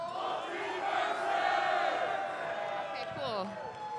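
A crowd at a fighting-game tournament awards ceremony roars and cheers with whoops and shouts rising and falling, loud and sustained, with voices calling out near the end.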